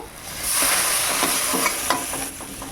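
A spoon stirs frying food in a pan just before water goes in, for a sour fish curry. A loud close sizzle carries several scraping stirs over a short stretch, with no voices.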